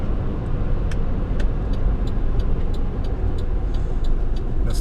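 Car driving on a rural road, a steady close rumble of engine and tyre noise throughout, with faint ticking clicks repeating above it.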